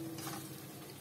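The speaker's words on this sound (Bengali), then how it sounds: "মিনিট 3-4 ধরে মশলাটা কষানোর পর" Spice masala for chicken bharta frying in a pan, a soft steady sizzle throughout this brief moment, quiet and without talk.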